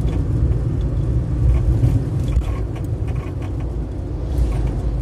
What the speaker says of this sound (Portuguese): O carro tá fazendo um barulho chato pra porra na traseira